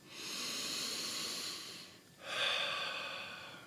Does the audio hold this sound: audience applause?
no